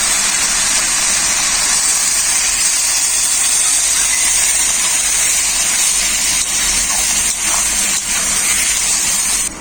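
Red amaranth greens with potato and lentil dumplings in a hot pan hiss and gush loudly as a splash of water hits, a dense steady sizzle that carries on for the whole stretch with no one talking.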